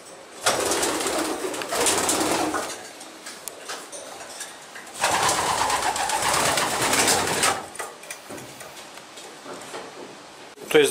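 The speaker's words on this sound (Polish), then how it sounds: "Te najlepsze gołębie rozpłodowe za chwilę pokażemy." Breeding pigeons in a loft coo nearby amid bursts of rustling and flapping, with people talking in the background.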